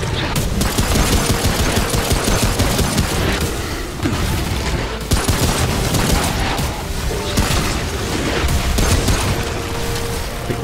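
Gunfire in the video game Remnant: From The Ashes: dense, sustained bursts of rapid shots and heavy booms, loud and continuous throughout with little pause.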